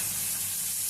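Greens sizzle as they are stir fried in a hot pan, giving a steady, hissing crackle that fills a brief moment.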